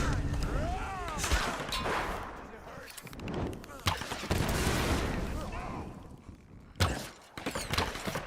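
Pistol shots from the Tomb Raider 2013 game ring out in several sharp bursts across the stretch, loud and close, mixed with game noise and voices at times.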